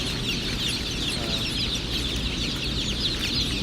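Partridge Rock chickens and broiler meat birds at the Murray McMurray Hatchery fill the air with constant, overlapping clucking and chirping from many birds at once, close and busy with no pauses.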